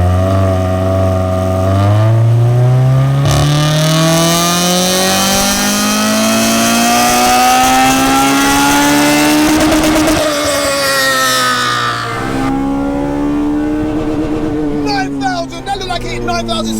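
A 25-year-old Honda engine revs hard on a dyno, its pitch climbing steadily for about ten seconds to a loud, rasping peak near 9,600 RPM before dropping and settling back. A voice talks over the engine noise.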